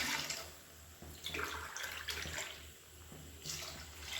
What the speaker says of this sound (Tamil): இப்போ இதில் தேங்காய் பால் சேர்த்துக்கலாம்.